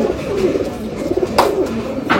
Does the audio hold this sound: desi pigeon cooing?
yes